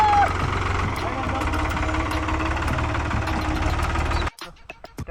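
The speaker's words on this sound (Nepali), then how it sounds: "ट्र्याक्टर चाहिँ हट्यो बाटोबाट" A tractor engine chugs loudly and close by on a rough country road in Kaski near Pokhara, with a steady knocking idle rhythm that cuts off abruptly near the end and leaves faint scattered knocks.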